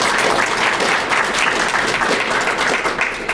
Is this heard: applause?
yes